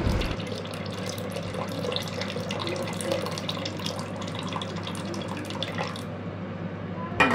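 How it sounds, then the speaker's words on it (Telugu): Water poured into mashed dal with tomato pulp for pappu: a continuous close splashing pour lasting several seconds before stopping abruptly near the end. "మనకి దీనికి తగినంత వాటర్ వేసుకోవాలి"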